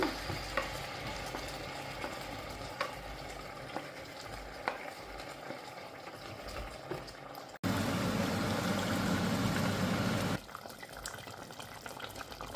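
Crab curry bubbles in a pot, a soft continuous simmer with a louder burst of bubbling and sizzling in the middle, close by, with no talking.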